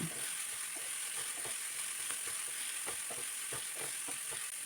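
Onions frying with green chillies and curry leaves for a mushroom stir-fry, a steady close sizzle broken by irregular scraping taps of a spoon stirring through the pan.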